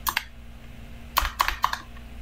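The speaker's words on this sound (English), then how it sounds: "I'm pressing every buttons on my keyboard" Keys on a computer keyboard are pressed in short clusters: a couple of taps, a pause, then a quick run of about five clicks, close and distinct over a faint steady hum.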